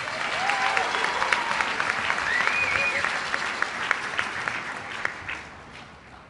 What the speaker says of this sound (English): Let's give all of our winners another round of applause.